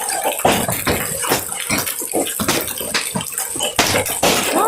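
Baseball-sized hail in San Angelo, Texas, pounds a roof amid heavy rain, giving a rapid, irregular barrage of hard clattering impacts over a steady wash of falling water, close and loud.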